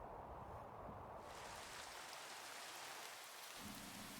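Rain falling steadily in the Minecraft game, a dense continuous hiss of raindrops with no voices over it, quiet throughout.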